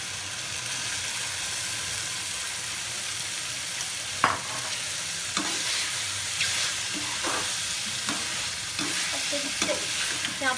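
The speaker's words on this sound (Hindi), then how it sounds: "इससे मसाले में अच्छे से मशरूम मटर को भून लेंगे थोड़ी देर के लिए" Mushrooms and peas stir-fried in masala for a matar mushroom curry: a steady, close sizzle with the scrape and clack of a spatula every second or so against the pan.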